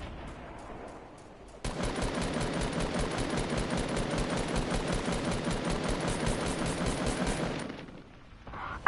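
Sustained machine-gun fire in a video game rattles on as one continuous rapid burst for about six seconds, loud and close, then cuts off abruptly.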